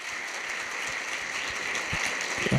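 A steady wash of audience clapping fills a felicitation ceremony held by Kautilya IIT JEE Academy in Malout, Punjab, before parents and students. It stays dense and even throughout, with no voices over it.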